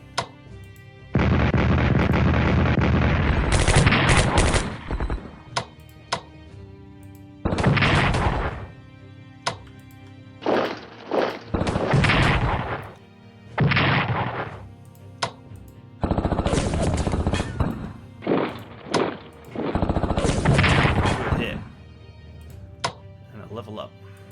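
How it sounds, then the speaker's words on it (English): Artillery shells pound a unit in the Strategic Command strategy game, a heavy barrage of booming bursts and rattling blasts coming in loud clusters separated by short gaps, with some talk mixed in. "after I dump a load of artillery shells on it"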